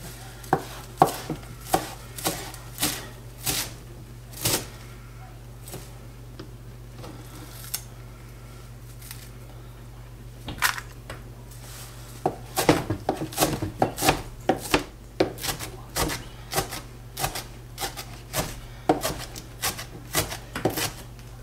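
A knife chops cherry tomatoes and cilantro on a cutting board in sharp, close taps, quick bursts at first, then a pause, then a faster and denser stretch of rhythmic chopping.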